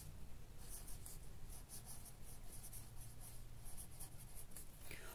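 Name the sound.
writing during a lesson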